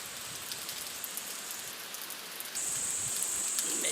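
Steady rain pours over open paddy fields, a dense even hiss that grows slightly louder partway through, with no voices.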